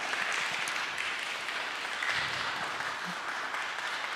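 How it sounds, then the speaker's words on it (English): Audience applause after a lecture on mission financing, a soft, even patter of many hands that holds steady at moderate distance with no break. "Can we give her a round of applause?"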